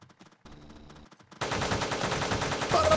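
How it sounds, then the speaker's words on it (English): Machine gun fire in the video game Teleglitch: quieter ticking and hum, then a loud, dense, continuous burst of rapid shots that keeps going to the end. "If it's humanoids again, the machine gun will make short work of them."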